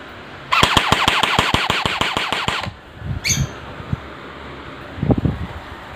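A Lancer Tactical polymer airsoft rifle on a stock battery fires one rapid full-auto burst of about twenty sharp, evenly spaced shots at close range, followed by a few faint handling clicks and rustles.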